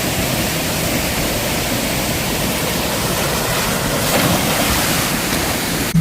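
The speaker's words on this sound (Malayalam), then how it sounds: "ഒരു വശത്തെ പ്രകൃതിയുടെ സംഗീതം പോലെ ഒഴുകുന്ന ജലധാര" Water pours down an outdoor waterfall in a steady, loud rushing roar that stays constant throughout, with a brief slight swell near the end and no voices.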